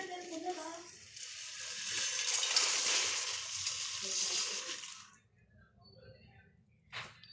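Chicken masala spices dry roasting in a pan over medium heat, a soft crackling sizzle with stirring for about five seconds before it fades to near quiet, broken by a brief scrape near the end.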